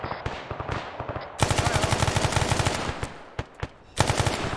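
Bursts of automatic gunfire in the military shooter Arma 3, with rapid repeated cracks, dense sustained firing through the middle and a fresh volley at the end, loud and close.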